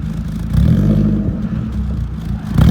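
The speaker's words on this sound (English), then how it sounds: "Do one like big rev up to like 5 and then let off." Ford Fusion engine swapped into a Mazda Miata, revved hard toward 5,000 rpm and then let off, a loud, close, rough engine roar rising and falling with no talking.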